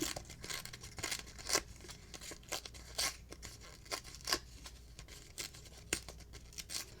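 Egg holder packaging being broken apart by hand, with a series of quiet, close crinkling cracks and tears coming in irregular bursts.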